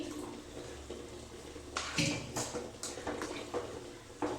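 Chicken pieces are stir-fried with spices and a little water in a pan, scraped and turned with soft scraping clatters and a low sizzle, the strokes coming in uneven bursts up close.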